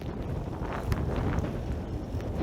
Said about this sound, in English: today is just it's a bit windy